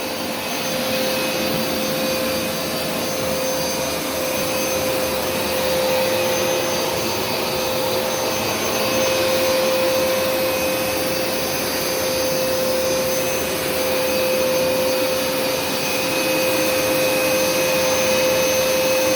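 A Hoover Smartwash carpet cleaner suctions water back out of carpet, a loud, steady, unbroken motor whine and suction roar with a high tonal hum, close up, no talking.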